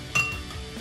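Glasses clinking in a toast at a home barbecue meal, a single bright ringing clink near at hand that quickly decays, followed by faint room noise.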